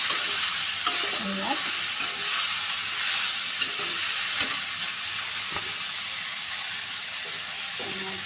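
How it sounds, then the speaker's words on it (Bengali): Drumstick (moringa) vegetable pieces frying in a pan while being stirred for a light vegetarian curry: a steady sizzle with repeated scraping stirs and clinks of the spoon, close and continuous, with no talking. "পাঁচ মিনিট পর নাড়িয়ে নাড়িয়ে দেখেছি হয়ে গেছে সবজিটা ভাজা হয়ে গেছে"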